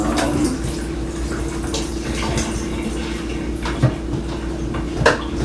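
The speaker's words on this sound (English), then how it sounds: "can you drain that water off?" Liquid drained from an opened can splashes and trickles steadily against a faint kitchen clatter of metal and dishes, with a couple of brief louder clinks near the end.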